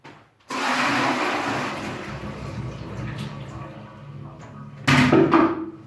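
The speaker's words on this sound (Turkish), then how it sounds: "Şimdi bunu tuvalete dökeceğim." Water from a filled container is poured into a toilet, then a flush rushes loudly and steadily, settling into a trickle before a second surge of running water near the end.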